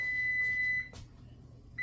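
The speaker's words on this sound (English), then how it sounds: "There's the timer." A kitchen timer on an oven beeps with a steady high electronic tone that holds for nearly a second, then a short second beep follows after a pause, close by in a quiet kitchen.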